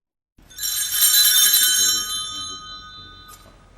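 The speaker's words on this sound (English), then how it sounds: "What do the bells do other than sound annoying?" Bells ring out in a film scene, a bright clanging peal that swells quickly, holds loud for over a second, then fades, with one fainter stroke near the end and no talking.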